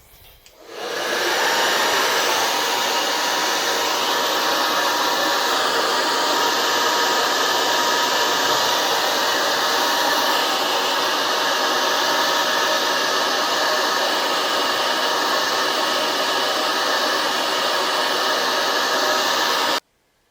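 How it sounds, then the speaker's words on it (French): A hair dryer blows over a watercolour painting of a fishing village, switching on with a rising whoosh into a loud, steady airy roar that holds unbroken for about twenty seconds before cutting off. "donc maintenant sèche-cheveux à nouveau."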